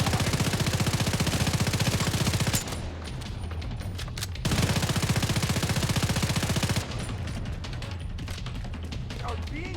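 Heavy automatic gunfire in The Division 2, two long sustained bursts of rapid shots separated by a pause with scattered single pops, loud and close.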